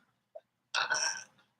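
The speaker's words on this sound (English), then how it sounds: "my cat just loves to burp" A pet cat lets out one short, raspy burp up close, preceded by a tiny click, in an otherwise quiet room.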